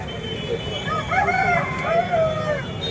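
A rooster crows once at a poultry market, a drawn-out rising and falling call, fairly close, over a low background hum.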